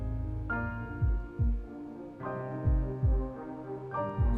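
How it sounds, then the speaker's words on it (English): Heartbeat sound effect in an edit, deep low double thumps repeating at a steady pace beneath sustained droning music tones that swell with each new phrase. "Now the heartbeat starts to go faster and faster."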